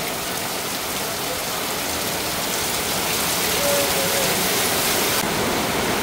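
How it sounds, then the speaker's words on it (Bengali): Steady rain pours down nearby, a dense, even hiss of drops striking surfaces that continues without a break. "দেখেন এই বৃষ্টি বিদেশের মাটিতে কোথায় পাবো"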